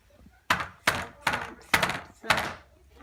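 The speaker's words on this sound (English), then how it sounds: "So, now if I thump it." A Micro Speed+ scooter is thumped five times in a steady rhythm to check its headset bearings. Each strike lands as a close, hollow knock that fades quickly.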